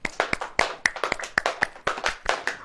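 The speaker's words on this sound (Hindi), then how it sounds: "ताली बजाओ ऐसे" A congregation at a church service claps hands together in a steady rhythm, sharp distinct claps about four per second, close and clear with no talking over them.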